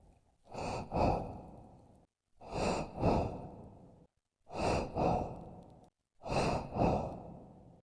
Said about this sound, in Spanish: Excepto por la respiración a mis espaldas.